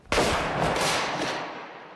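A Civil War breech-loading rifled cannon fires a single sharp blast that rolls away into a long fading rumble.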